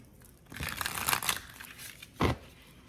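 Close-up papery rustling and riffling of tarot cards being shuffled side-on, in a few short bursts, ending with one sharper flutter.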